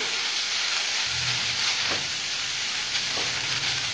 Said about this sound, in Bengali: পেঁয়াজ দুখানা বড় বড় কেটে রেখেছিলাম, সেটা আমি এখানে দিয়ে দিচ্ছি। এবার এটা একটু নেড়ে চেড়ে নিচ্ছি